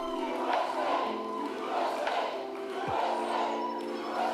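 Large crowd at a JD Vance political rally cheering and roaring steadily, dense sustained crowd noise with swells of shouting throughout, voices blending into a continuous wash.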